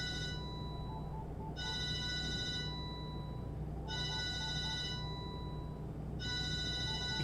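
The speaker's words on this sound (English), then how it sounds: "Oh, the phone is ringing" A home telephone rings in three evenly spaced bursts of bright electronic trilling over a low, steady room hum, with no one speaking.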